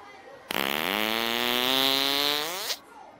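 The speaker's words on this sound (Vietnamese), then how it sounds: "Kiểu cho bạn ngồi lên xong rồi nó có tiếng xì hơi á." A loud, buzzing fart from a prank seat in the video game It's Just A Prank, starting abruptly and holding for about two seconds with a slowly rising pitch before cutting off, heard alone.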